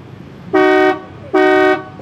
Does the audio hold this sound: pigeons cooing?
no